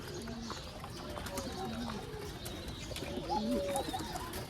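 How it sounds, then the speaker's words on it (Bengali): Several pigeons coo in low, rolling calls nearby, with faint shuffling and occasional soft clicks in a quiet enclosure. "এই যে এখানে আছে কবুতরগুলো, দেখছেন"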